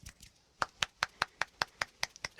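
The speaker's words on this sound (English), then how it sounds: "It sounds like normal clapping." One-handed clapping, fingers slapping against the palm of the same hand, heard as a close, crisp run of about ten evenly spaced claps in a quick steady rhythm, with no talking.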